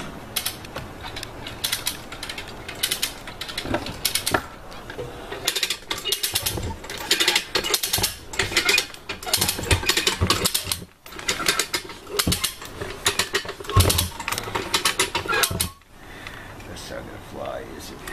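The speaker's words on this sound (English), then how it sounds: "I hear ratcheting." A load chain binder being ratcheted on an old Squarebody truck hauling a large RV, with rapid repeated clicking strokes in bursts, loud and close, with people talking at times.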